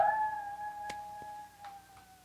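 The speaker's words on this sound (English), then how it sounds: "he howls like a werewolf" A dog howling like a werewolf in the horror film Microwave Massacre; one sustained, wavering howl that fades, with a few soft thumps behind it.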